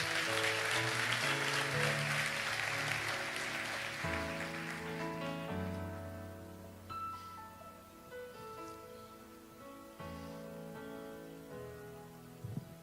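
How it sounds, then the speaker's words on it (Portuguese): A church congregation applauds during an evening service. The clapping is loudest at the start, then fades over about five seconds while sustained keyboard chords carry on alone. "Dá um aplauso ao Senhor em nome de Jesus."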